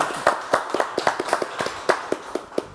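Scattered, sparse claps from a small audience after a song, individual hand claps ringing out one at a time in an uneven rhythm, close and distinct.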